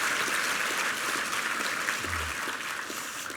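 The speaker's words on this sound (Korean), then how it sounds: "한번 격려 박수 부탁합니다." A church congregation claps during a Sunday service, a dense, even round of applause sustained throughout, moderately loud in a large room.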